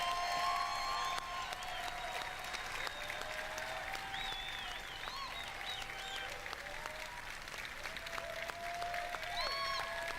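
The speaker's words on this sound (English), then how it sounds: "People still cheering" An audience at the Bethesda E3 2018 showcase claps and cheers in sustained, dense applause filling a large hall, with whoops and whistles rising over the steady clapping.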